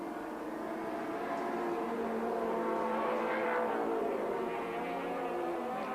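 Turbocharged 4-cylinder touring race car engine in 1983 Australian Touring Car racing at Sandown, a steady droning roar with shifting engine tones held loud and continuous throughout.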